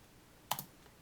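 Two quick, crisp keystrokes on a computer keyboard, close and alone against a quiet background.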